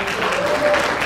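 An audience at a scholarship award ceremony and peace-unification lecture claps steadily in a brief, dense burst of applause from a room full of people.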